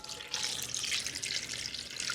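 Water pours into a cooking pot holding a halved onion, a bay leaf and garlic cloves. It makes a continuous bright splashing stream, close and steady, with no talk over it.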